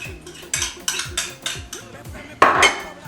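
Cutlery scraping and clinking against a dish while garlic is mixed into a paste, in a steady rhythm of about eight close strokes, the last one louder and longer, with no talking.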